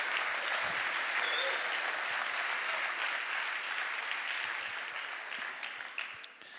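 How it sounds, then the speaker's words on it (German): Congregation applause at a church Easter conference session, a broad, steady wash of clapping that holds for several seconds and thins toward the end. "Einen Applaus für ihn, bitte."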